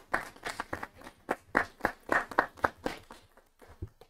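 A small group at a school committee meeting gives a round of applause, a thin, uneven scatter of distinct claps rather than a full ovation, trailing off after about three seconds.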